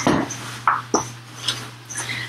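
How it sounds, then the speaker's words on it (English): Pastry blender cutting butter into flour in a bowl, a few short scraping and clinking strokes spaced irregularly over a faint steady hum, close and moderately loud with no speech. "I'm going to use a pastry blender to cut in the butter."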